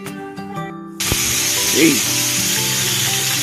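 Marinated chicken liver hits a hot pan and bursts into a loud, continuous sizzle and hiss that carries on steadily after a brief spoken word.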